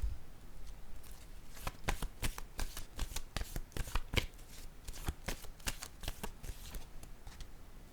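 Tarot cards shuffled and handled by hand, a quick run of crisp riffling flutters and soft slaps that repeat steadily, close and fairly quiet, with no talking.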